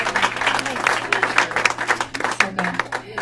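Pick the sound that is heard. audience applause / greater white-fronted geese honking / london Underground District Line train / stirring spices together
audience applause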